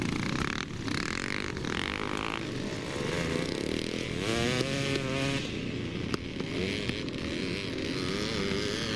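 A Yamaha motocross motorcycle racing at the Forestmill Clackmannan track with other bikes, engines buzzing and revving as they rise and fall in pitch, heard at a middle distance over a constant rumble.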